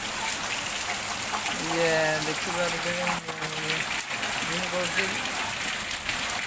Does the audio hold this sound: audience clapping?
no